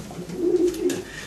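A pigeon coos in a soft, low series of rolling notes, close and clear, with no talking.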